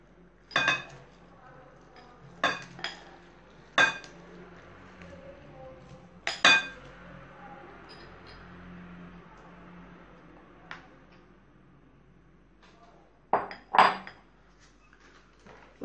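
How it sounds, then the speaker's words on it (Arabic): A utensil knocks and clinks against a mixing bowl while carrot cake batter is stirred, with 250 grams of finely grated carrot and orange flavouring folded in: a few separate sharp taps at uneven intervals over a quiet background. "ودابا كنخلط كلشي مزيان"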